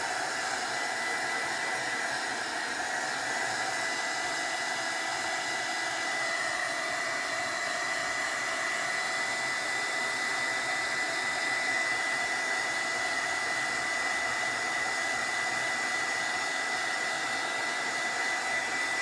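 A heat gun blows continuously to dry foil on journal cards, a steady, close, even whirring roar that holds without a break throughout.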